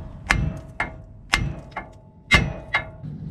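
A big hammer strikes a tie rod end on an 89-95 Toyota pickup during suspension work, giving six sharp metallic smacks at an uneven rhythm, each one close and loud with a short ring.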